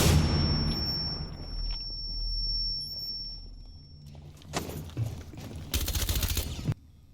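Gunfire in Rainbow Six Siege during a Melusi round: a few sharp shot bursts in the latter half, one dense volley near the end, over quiet game ambience with a steady high electronic tone early on.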